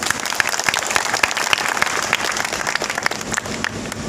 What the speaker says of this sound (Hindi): एक बार अपने लिए ताली बजा दीजिए।